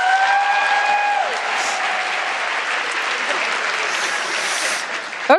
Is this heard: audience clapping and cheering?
yes